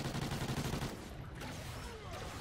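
A powerful, low-ammo customized gun fires in Call of Duty Ghosts Extinction mode on the Nightfall map: a dense, rapid burst of shots for about a second, then a quieter stretch of continued firing and game noise.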